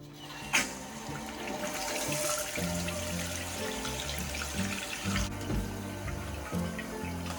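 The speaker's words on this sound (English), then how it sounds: "Now we're ready to turn the water back on." Water rushing steadily into a toilet tank after a sharp click, a continuous hollow filling sound with gurgling tones.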